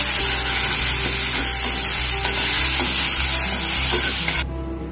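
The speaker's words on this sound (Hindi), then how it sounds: "तो इसको धीमी आंच में धीरे धीरे इसको फ्राई करना है" Prawns and other pad thai ingredients frying slowly over low heat in a pan, a loud continuous sizzle with occasional stirring, no voices, cutting off abruptly at the end.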